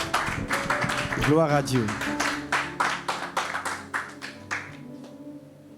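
Worshippers in a church clap to acclaim the word of the Lord, with steady, rhythmic claps that start thick and thin out into slower, separate beats, while a voice briefly exclaims near the start.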